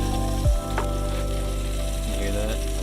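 Pork chops fry and sizzle over an open campfire by a lake, a steady, close crackling hiss that runs the whole time with a brief low thump near the start and no talking.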